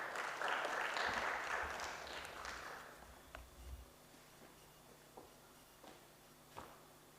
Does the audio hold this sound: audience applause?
yes